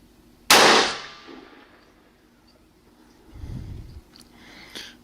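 A rifle fired once at a 100-yard target through a Hawke night scope: a single sharp, loud crack with a quick decaying tail, followed by faint low rustling and small clicks, with no talk.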